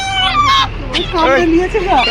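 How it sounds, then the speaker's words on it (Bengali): A large rooster bought in Saudi Arabia gives short, harsh squawking calls, close and loud, mixed with people talking nearby. "মুরগি না পেয়ে মোরগ পেয়েছি"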